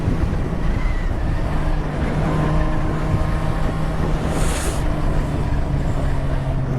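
A motorbike riding up a road on the way to an MOT test, its engine a steady drone under heavy wind buffeting on the microphone for the whole stretch, with no talk.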